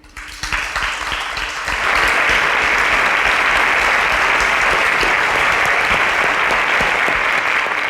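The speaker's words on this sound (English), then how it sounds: "A round of applause for him, please." Audience applause at a televised innovation competition, starting with a few scattered claps and swelling after about two seconds into loud, sustained clapping from a large crowd.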